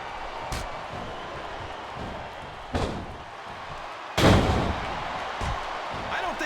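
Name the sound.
wrestling Gory Bomb slam in WWE SmackDown vs. Raw 2008 video game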